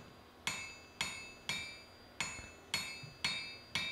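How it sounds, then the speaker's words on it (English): Seven hammer blows ring out evenly, about half a second apart, as the eye of a Viking shipwright's axe is forged, each a sharp metallic clang with a brief ringing decay. "So basically just forging up towards the fat end, giving more blows"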